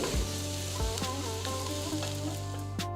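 Sliced onions with green chillies and curry leaves fry in hot oil for a tempering, giving a steady close sizzle with light stirring scrapes throughout.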